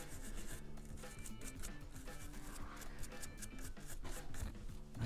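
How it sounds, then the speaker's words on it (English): A wire brush scrubs debris out of the sight dovetail grooves on a CZ pistol slide. The quick, faint scratching strokes repeat close up in a steady rhythm with no talk. "We're going to use a wire brush just to get rid of anything in those grooves"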